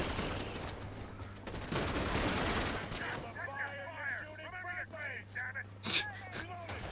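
Bursts of rapid gunfire fill a video game battle for the first three seconds, loud and dense, then fall away to scattered shots while a player talks over the action.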